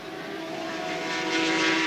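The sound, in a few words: Yamaha V4 racing motorcycle engine, 1985 British Grand Prix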